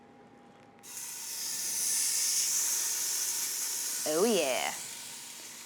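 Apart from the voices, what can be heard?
seasoned beef rib meat searing in an Instant Pot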